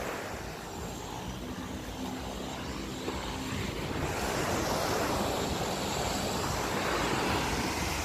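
Steady, broad roar of an airplane taking off in the Caribbean, heard from some distance with wind rushing across the microphone, growing slightly louder partway through and continuing unbroken.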